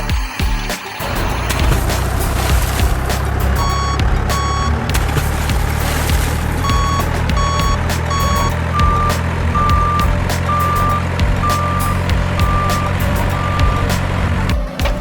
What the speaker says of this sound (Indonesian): Truk sampah dapat mengangkut tempat sampah menggunakan lengan hidrolik dan menuangkan isinya ke dalam koper.